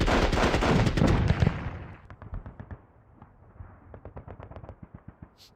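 Machine gun fire from the Squad Battles Eagles Strike war game, a dense, loud continuous burst at first that breaks into scattered, separate rapid shots, with some distant booms mixed in.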